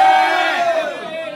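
A crowd at a Japanese rap battle event roars and shouts loudly in one sustained burst to vote for a rapper, a dense close mass of voices fading slightly at the end.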